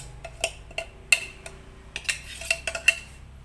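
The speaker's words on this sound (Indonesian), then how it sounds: "Lalu kita aduk." Stirring blended spices into a dish of botok laron with small tomatoes, heard as sparse clinks and scrapes of a utensil against a pot, irregular and close, with quiet gaps between strikes.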